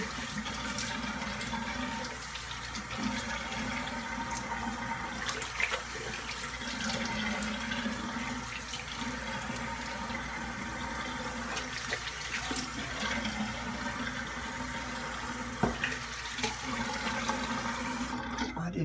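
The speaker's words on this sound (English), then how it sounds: "we're gonna rinse off" Water runs steadily from a tap for rinsing after a shave, a constant close rushing flow with small splashes throughout.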